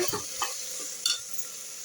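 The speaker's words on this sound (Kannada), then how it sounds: "ಇವಾಗ ಇದೆಲ್ಲ ಸ್ವಲ್ಪ ಫ್ರೈ ಮಾಡ್ಕೊಳ್ಳೋಣ ನೋಡಿ ಇವಾಗ ಇದೆಲ್ಲ ಚೆನ್ನಾಗಿ ಫ್ರೈ ಆಗಿದೆ" Washed rice and spices frying in a pan while being stirred, a soft steady sizzle with scraping strokes and a few clinks of the spoon, quiet and close with no talk.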